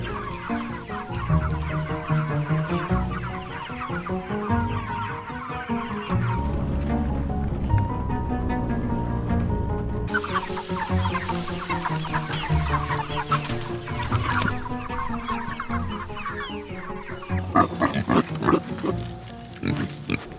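A large flock of about 150 meat chickens on a small farm clucking and squawking continuously, close and busy, with a few louder calls and a rooster-like crow breaking through near the end.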